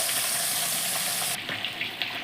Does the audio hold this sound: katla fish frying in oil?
yes